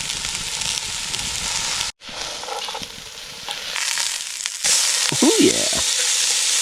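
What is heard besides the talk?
steak and mushrooms frying in a pan over a campfire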